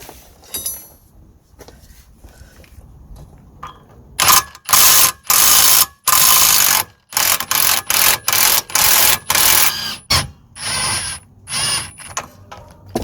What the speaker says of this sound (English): Now we need to undo this bolt here. That's a 15mm bolt as well.